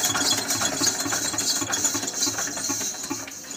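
A 2004 Eicher 242 Super Star tractor engine runs in good condition, a steady close-up mechanical chugging with a rapid, even knocking pulse that continues without talk.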